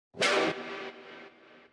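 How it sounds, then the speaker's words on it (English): A short burst of synth sound with a sidechained reverb tail that drops in steps rather than fading smoothly, giving a rhythmic pumping decay. "you hear that pumping of the reverb"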